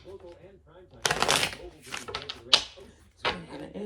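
Tarot cards riffled and shuffled in bursts of crisp, papery flutters and snaps, close and fairly loud, with a voice faintly underneath.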